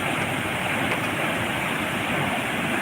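Water flows over the Pulunj weir dam on the Bhima river in a steady, dense roar, loud and close, with no voices.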